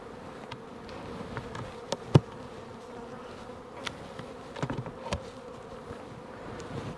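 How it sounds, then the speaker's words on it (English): Honeybees hum steadily around an open hive, a soft continuous buzz with a few brief close passes and faint clicks, heard alone without talk. "Now here's a hive"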